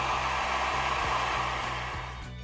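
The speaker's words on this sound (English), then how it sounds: "you can even use a hair dryer to speed up the process with PVA glue for drying" A hair dryer blows steadily at close range, a constant whooshing roar with a low motor hum that holds for the whole stretch.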